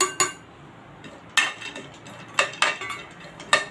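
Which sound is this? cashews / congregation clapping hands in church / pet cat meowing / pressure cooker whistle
cashews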